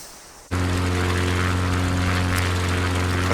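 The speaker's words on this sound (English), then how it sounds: "Touchdown just after the stall and float into the seaplane wharf." A floatplane's propeller engine roars up abruptly and holds a loud, steady drone with a strong low hum, as the seaplane touches down and floats in toward the seaplane wharf on Kodiak Island, Alaska.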